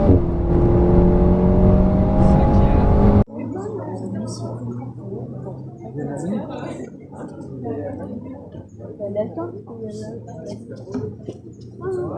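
A car accelerating hard on a race circuit: a loud, close engine roar climbs in pitch for about three seconds, then cuts to a lower, steadier drone through the gear change while someone speaks over it.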